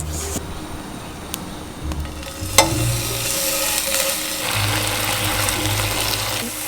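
Meat marinated in homemade wood-fired strawberry jam frying in a pan, a steady close sizzle with occasional scrapes and clinks of a utensil stirring, no talk.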